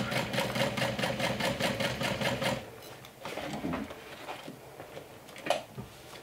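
Sewing machine top stitching the curve of a bag, a rapid rhythmic clatter for about three seconds, then short stop-start bursts of stitching, close and clear.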